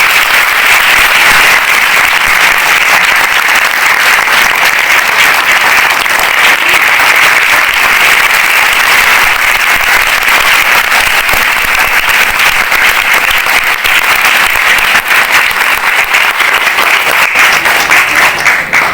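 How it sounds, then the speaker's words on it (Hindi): Children clap for themselves with both hands after a play about Gandhi, a loud, continuous, dense clatter of many hands that keeps an even intensity throughout without a break. "1 मिनट तक दोनों हाथों से अपने लिए जोरदार ताली बजाएं"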